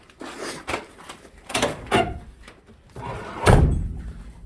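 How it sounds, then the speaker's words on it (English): Doors on a Jeep XJ crawler are swung shut, giving several dull thunks and slams spread over a few seconds, the heaviest near the end, with no talking. "Doors close okay for it being an XJ."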